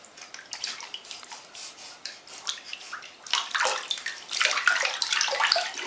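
A baby kicks and splashes in a bathtub, producing repeated bursts of close, sloshing water that grow louder and busier toward the end.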